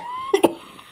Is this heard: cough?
yes